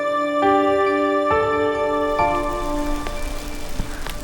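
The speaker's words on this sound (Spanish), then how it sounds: "Está granizando." Dense pattering of hailstones striking surfaces, steady and close, with a sustained musical tone fading out at the start.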